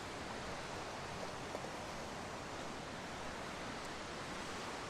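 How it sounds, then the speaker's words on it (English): Water rushes loudly and steadily along a wooded nature trail, a dense unbroken roar with no voices. "Now that water is really loud, isn't it?"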